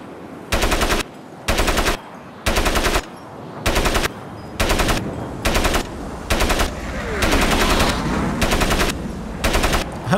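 Automatic rifle fire in the game Crysis rattles in loud repeated short bursts separated by brief pauses, merging into a longer sustained volley toward the end.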